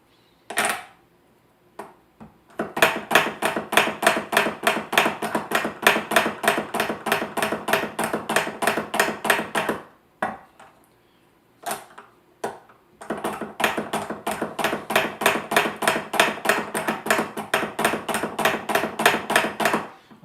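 Reed profiler blade shaving oboe reed cane, heard as long runs of rapid, regular scraping strokes in two extended bursts separated by a brief pause, close and crisp with no talking.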